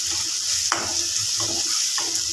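Chopped onion and curry leaves fry in hot oil with a steady sizzle while a spoon scrapes and turns them in the pan in a few regular strokes, close and clear.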